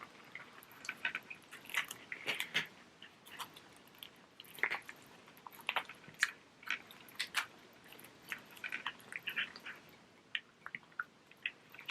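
A Scottish Fold cat eating, with faint, close, wet chewing and small crunching clicks in a quick irregular rhythm over soft room noise.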